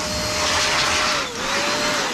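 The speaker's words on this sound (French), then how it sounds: "je vais souffler un peu sur les ventilos là" A handheld air blower roars as it dusts the graphics card fans of a cryptocurrency mining rig, a loud, close, continuous whoosh with a brief dip midway and a faint tonal whine.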